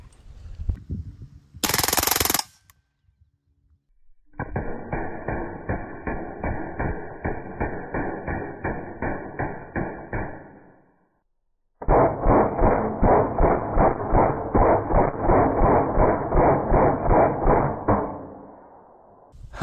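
Full-auto airgun firing stainless steel projectiles in a steel-penetrating test tunnel: a brief sharp burst, then two long sustained rapid-fire strings of dense, evenly spaced shots, loud and close with no talking.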